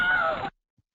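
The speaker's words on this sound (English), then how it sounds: "Wilhelm scream." The classic Wilhelm scream sound effect, a single sharp, strained yell lasting about half a second before cutting off abruptly into silence.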